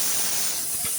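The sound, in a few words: polao rice frying in a pot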